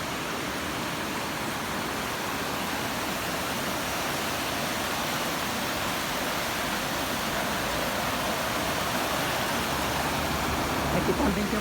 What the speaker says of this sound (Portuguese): Aqui também tem uma cachoeira